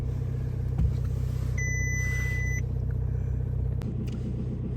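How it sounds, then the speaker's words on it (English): A 2000s Audi A3 8P hatchback engine idling steadily just after starting on a fresh battery, a close, continuous low rumble with an even rhythmic throb and no revving, plus a brief electronic beep partway through. "So there you have it, guys, the car has started."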